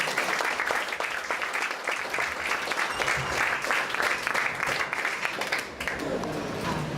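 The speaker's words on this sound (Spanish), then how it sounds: "un voto de aplauso para la profesora" An audience at a university technology conference applauds a professor, with a dense, steady burst of clapping that holds evenly for several seconds before thinning out near the end.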